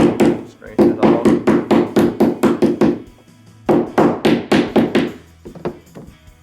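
Sleeve being crimped onto a commercial overhead door cable: two bursts of rapid, loud, close thunking strokes in a quick steady rhythm, separated by a short pause.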